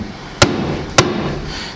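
Two sharp metallic hammer taps strike a CV axle to drive it out of a Polaris Ranger hub, close and loud, spaced about half a second apart over a low workshop hum.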